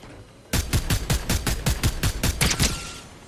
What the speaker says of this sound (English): I pull the trigger, shoot the fucking gun.